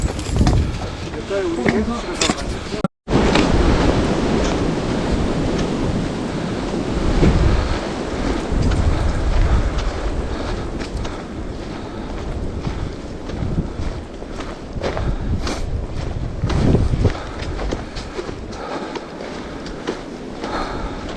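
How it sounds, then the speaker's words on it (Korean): A strong, continuous roar of wind rushes through the forest canopy overhead on Seonjaryeong ridge in South Korea's Baekdudaegan mountains, steady and broad with gusting swells, with a brief dropout early on. "지금 숲 위쪽으로는 바람 소리가 엄청나게 세게 들립니다"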